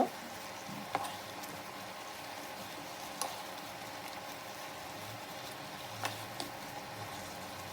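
Poppy seed, nut and raisin paste cooking in a pan, a soft continuous sizzle with a few light ticks and clinks of a utensil against the pan, faint and steady with no talk.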